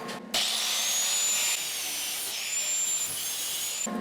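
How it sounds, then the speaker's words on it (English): A grinder cuts and shapes steel stock for a pair of crucible tongs used in metal casting. It gives a steady, loud, high whine from start to finish, with a short dip partway through and no talking. "No matter, to the grinder."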